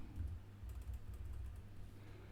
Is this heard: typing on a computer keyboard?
yes